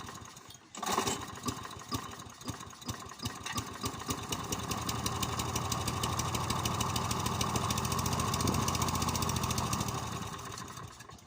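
A lawnmower engine being pulled over on a restored scrap mower with a carburetor problem, first a few rough turns, then it fires and runs loud and steady with a fast mechanical rattle, close up.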